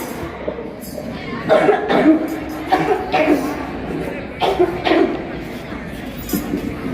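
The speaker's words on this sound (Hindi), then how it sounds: "क्या हुआ बेटा, तुम अचानक से फिर से इतना खांसने लगे?" Someone in a street play about smoking addiction coughs repeatedly in several rough bursts, performed outdoors beneath a steady murmur of crowd chatter and background voices.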